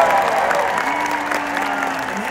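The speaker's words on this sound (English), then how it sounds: "give a big round of applause for all the people who planned this event" A large crowd at a hospital family fun day event claps and cheers in loud, dense applause for the event planners, sustained across the moment with a few voices mixed in.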